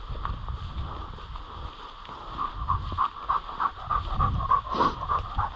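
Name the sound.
hunting dog panting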